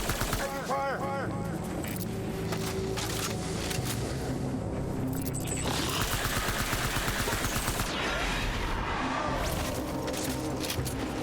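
Gunfire rings out in the video game Death Stranding Director's Cut, dense bursts of shots running throughout amid a busy mix of music and effects, with voices calling out over the shooting.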